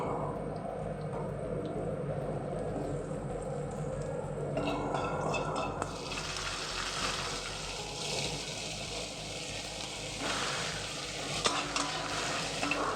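Whole cumin, ginger and garlic frying with potatoes in a pan for a chana dal dish, a constant close sizzle that brightens and intensifies midway, with occasional stirring clinks.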